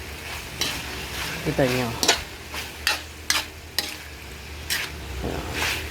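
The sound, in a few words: stirring frying food in a pan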